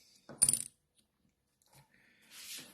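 Portuguese coins, a mix of réis pieces including silver and commemorative issues, clatter in one sharp burst as they are handled and dropped, followed by quieter scattered clinks of handling and a soft metallic rustle near the end.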